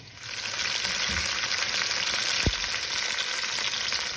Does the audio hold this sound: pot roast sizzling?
yes